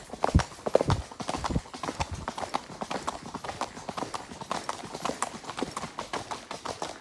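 Horses walking on a trail ride, their hooves clip-clopping in a steady, fairly close rhythm throughout, with faint ambient outdoor noise.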